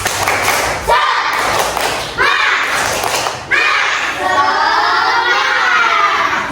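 A class of children does a rhythmic clapping chant together, bursts of claps and shouted voices repeating in three quick rounds, loud and close in a classroom.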